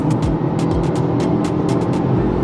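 A 2022 Mercedes GLA 250 compact SUV in sport mode gives a loud, steady engine drone with a rapid burbling gurgle. Crackling pops repeat through it in a quick, uneven rhythm.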